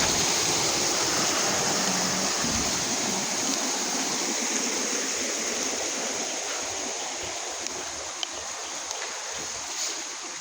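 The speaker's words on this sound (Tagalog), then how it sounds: "Tagong-tago. Nakatago talaga na Bugso Falls." Bugso Falls, a hidden mountain waterfall, pours in a steady, dense roar of rushing water, loud and continuous throughout with no voices, only a few small knocks near the end.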